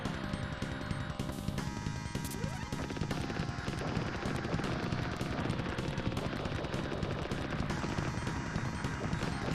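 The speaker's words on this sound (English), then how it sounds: "I can hold down my fire button and act as a turret." Rapid turret gunfire rattles continuously in a video game, dense automatic bursts layered with game effects and background music, with no voices.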